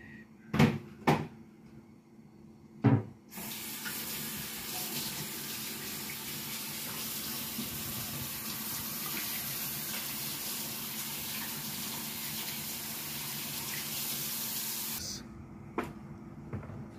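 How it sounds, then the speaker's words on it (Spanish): Tap water runs steadily into a sink while hands are washed in a kitchen during tamale cooking, a continuous close hiss for about twelve seconds, framed by a few cupboard knocks and clatters before and after. "vamos a lavar mis manitas"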